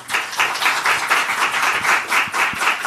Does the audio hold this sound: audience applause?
yes